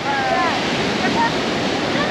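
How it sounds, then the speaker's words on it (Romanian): Ocean surf breaking on a beach in Goa, India, a steady loud wash of waves with wind noise, some faint voices in the background. "zice că sunt foarte mari valurile"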